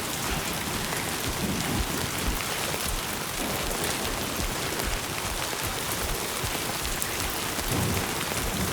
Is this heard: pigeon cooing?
no